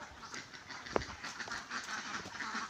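Ducks on a small farm pond giving faint, scattered quacks against a steady outdoor background, with one short sharper call standing out, distant and quiet.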